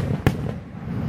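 A single Fourth of July firework bangs once, a short sharp burst over a low, rumbling outdoor background.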